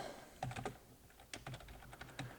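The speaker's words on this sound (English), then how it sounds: "I just start typing out the product" Quiet typing on a computer keyboard, two short bursts of rapid key clicks separated by a brief pause, close and alone.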